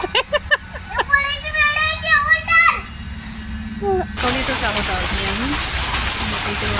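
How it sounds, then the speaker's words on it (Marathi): Children chatter and call out at first, then a steady patter of rain takes over, continuous and fairly loud. "पावसाला सुरुवात झाली"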